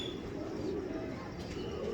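Pigeons cooing softly in a breeder's loft at sunset, faint low murmurs over quiet background hum.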